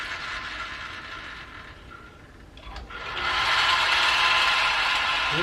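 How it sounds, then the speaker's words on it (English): Gear teeth rubbing on a 1911 Seneca Falls Star 9-inch lathe with a lever not fully engaged, a steady mechanical whir and grind that dips briefly, then returns louder and continues near and alone. "That noise may have been as simple as not having this lever back all the way and the teeth rubbing a little bit."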